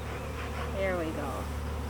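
Saskatraz honey bees buzz around a hive in a garden, a dense continuous hum with a brief rising whine of an individual bee passing close midway.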